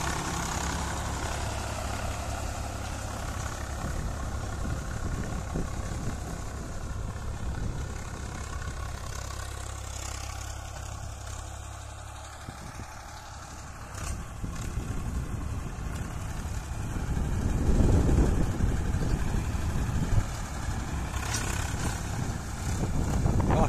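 A heavy diesel Swaraj 855 tractor engine drones steadily throughout, its rumble growing louder and rougher toward the end as it pulls a cultivator under load.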